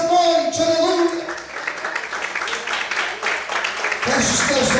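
A church congregation claps in a dense, sustained wash of applause, with a voice or music ringing over it at the start and end.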